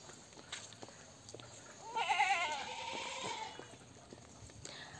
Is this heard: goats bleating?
yes